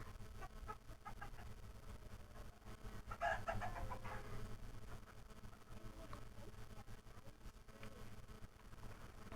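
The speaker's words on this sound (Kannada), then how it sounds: "ನೋಡಿ ಕೋಳಿಗಳು ನಾಟಿ ಕೋಳಿ" Native village chickens and a rooster cluck faintly around a farmyard, with a slightly louder burst of clucking a few seconds in and a low steady background hum throughout.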